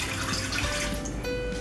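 Tap water runs steadily into a pot for potato and leek soup made with chicken bouillon cubes, a continuous close splashing stream with no talk over it.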